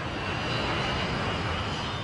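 A twin-engine passenger jet airplane gives off a continuous broadband engine roar, steady and moderately distant, with no breaks across the short stretch.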